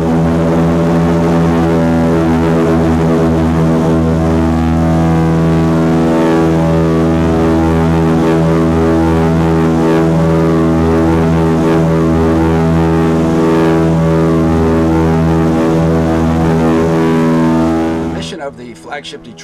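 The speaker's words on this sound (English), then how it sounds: "so that we can keep this vintage airplane flying" The vintage Douglas DC-3 propeller airliner of the Flagship Detroit is heard in flight from inside, a loud, constant droning engine and propeller roar that holds steady before fading at the very end.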